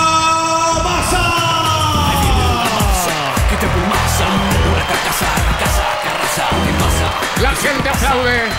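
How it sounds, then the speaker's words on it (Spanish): A large crowd at a wrestling show yells and cheers in a noisy, reverberant hall, with rising whistles and scattered shouts cutting through the roar. "La gente aplaude, la gente silba."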